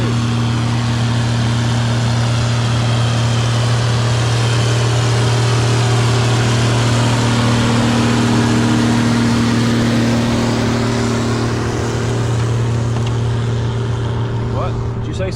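A Case 50/20 tractor with cab and dual wheels runs steadily at an old-fashioned threshing bee, its loud, close engine holding a constant low drone throughout with no break.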